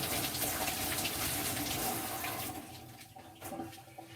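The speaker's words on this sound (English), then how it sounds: "Just gonna rinse my hands." Tap water gushing into a small kitchen sink as hands are rinsed, a loud steady rush close by that eases and thins toward the end.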